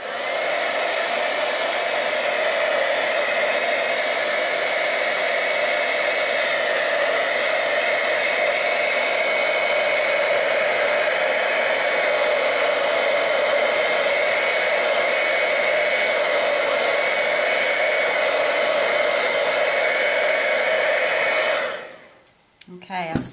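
A hair dryer blows steadily and loudly for about twenty-two seconds, drying distress oxide ink on card, then cuts off abruptly near the end.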